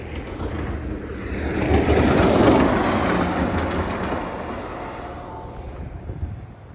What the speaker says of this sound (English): A plow coming by right now.